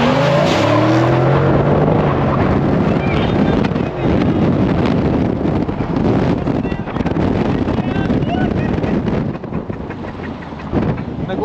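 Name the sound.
car doing a warm-up run on an airstrip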